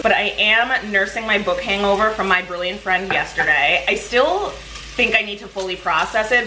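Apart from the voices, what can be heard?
bacon frying in a pot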